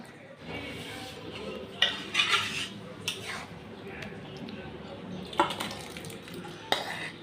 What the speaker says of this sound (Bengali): এবারে আমি ভালো করে একটু নেড়ে ঘুগনিটাকে